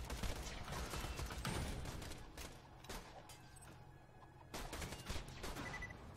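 Rapid video game gunfire from Borderlands 2 crackles in a dense, continuous burst, fairly quiet and soft, with brief lulls between volleys.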